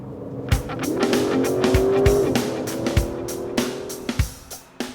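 A 2017 Aston Martin DB11 coupe pushes through corners, engine note rising and falling in a steady drone, with brief tire squeals and sharp thumps from the road.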